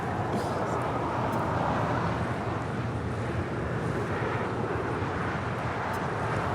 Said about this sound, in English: That was British Airways Flight 282 departing to London Heathrow on the A350-1000.